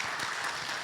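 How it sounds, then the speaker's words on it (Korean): A congregation claps during a Sunday church service, a brief burst of dense, steady applause that fills the room. "다시 한번 큰 박수로 우리 하나님께 영광을 드리겠습니다"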